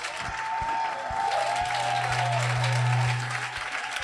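A church congregation applauds and cheers during worship, sustained clapping and crowd noise with low sustained tones and an organ-like hum beneath, fairly loud throughout.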